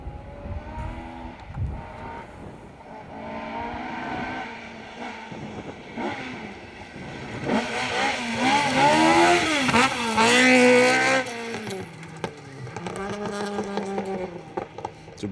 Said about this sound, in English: So Brian Jardine, Declan Campbell in the H6 Class Ford Escort. Sounds like a little bit of a soft tyre on the back there as well.